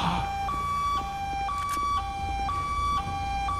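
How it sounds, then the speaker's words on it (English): A police car siren in the video game GTA 5 sounds loud and steady, alternating between two tones in a regular half-second rhythm, with no talking. "your don't get back in the car and start the siren"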